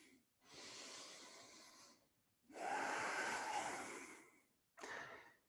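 A yoga student's deep breaths drawn in and out while holding warrior one pose, three long airy inhalations and exhalations, close and soft with short pauses between them and no talking.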